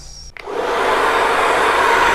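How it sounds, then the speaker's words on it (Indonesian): A hair dryer switches on at a cool setting to dry a real-hair toupee wig, spinning up within a fraction of a second into a steady, loud, close blowing roar with no talk over it. "Dikipas ataupun di hair dryer, tapi yang dingin, jangan yang panas."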